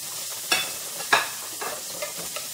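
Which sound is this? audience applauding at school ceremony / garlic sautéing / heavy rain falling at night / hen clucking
garlic sautéing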